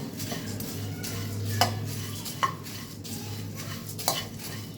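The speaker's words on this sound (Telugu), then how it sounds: "మీడియం ఫ్లేమ్లో డ్రై రోస్ట్ చేసుకోవాలి." Puffed rice for laddu dry-roasted in a pan over a medium flame, with a steady soft scraping stir, a low hum underneath and a few sharp clinks of the utensil against the pan, close by and without talk.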